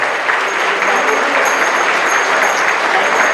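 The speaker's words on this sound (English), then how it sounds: "let's give a round of applause" A round of applause from an audience at a gathering honoring leadership and mentors, steady and fairly close, many hands clapping evenly for a few seconds.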